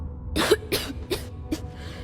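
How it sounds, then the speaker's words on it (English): A man coughs several times in a row in the video game Starfield, harsh and close, with short pauses between the hacking bursts. "As you can probably tell, I've got this bad cough."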